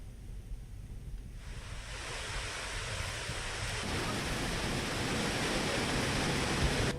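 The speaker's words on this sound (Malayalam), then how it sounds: "കുത്തുങ്കൽ വെള്ളച്ചാട്ടം കഴിഞ്ഞ ദിവസങ്ങളിൽ പെയ്ത മഴയിൽ ജലസമൃദ്ധമായി മാറി" Kuthumkal waterfall in Idukki, swollen after heavy rain, produces a steady, dense roar of rushing water that swells slightly louder over the span with no voices.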